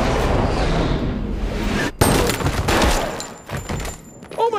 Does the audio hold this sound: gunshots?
yes